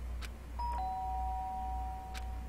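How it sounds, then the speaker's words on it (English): A doorbell rings in the Danganronpa video game, a clean two-tone electronic chime with a short first note and a longer sustained second note, clear over a low steady background hum. "The sharp sound of the doorbell pierced my sleepy haze and pulled me back to the real world."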